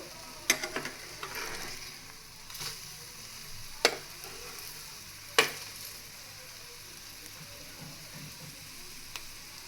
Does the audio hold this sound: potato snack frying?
yes